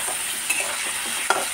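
Potatoes fry in leftover fish oil, giving a continuous close sizzle with two brief stirring clacks.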